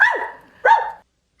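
A person imitating a dog, giving two loud, close barks in quick succession with a short pause between, then the start of a third at the very end.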